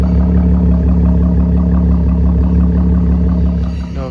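A Mercedes W203 with its V6 running through an exhaust stripped of muffler and resonator gives a loud, deep, close idle rumble with a steady pulsing throb that eases slightly at the end.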